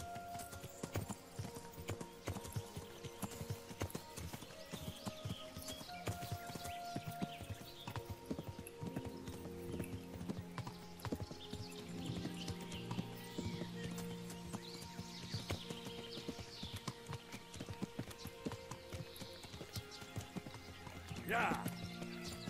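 Horse hooves clip-clop steadily while riding in the medieval game Kingdom Come: Deliverance, a rhythmic trotting patter with an occasional whinny, mixed with game music and someone talking over it.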